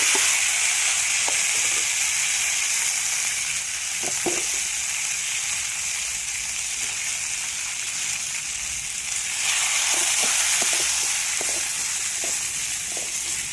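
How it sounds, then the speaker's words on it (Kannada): Mutton masala with tomato, onion and coriander frying in a pan, a loud continuous close sizzle with occasional soft stirring knocks and no speech. "ಟೊಮೊಟೊ ಈರುಳ್ಳಿ ಕೊತ್ತಂಬರಿ ಸೊಪ್ಪು ಎಲ್ಲ ಹಾಕಿ ಚೆನ್ನಾಗಿ ಫ್ರೈ ಮಾಡ್ಕೊಳ್ಳೋಣ"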